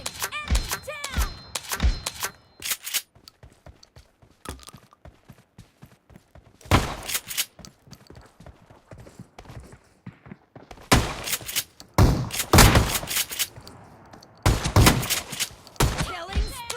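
Pump-action shotgun blasts from a video game fire in loud, spaced bursts, some in quick clusters, with echoing booms and quieter mechanical clicks between shots.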